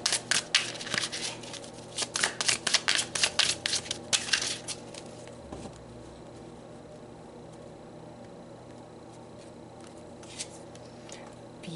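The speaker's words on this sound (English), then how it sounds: "So we are going to start by pulling some cards from his own deck." Oracle cards from an Archangel Metatron deck shuffled up close, a quick run of crisp riffling flicks for a few seconds, then fading into quiet room hiss with a few faint shuffles.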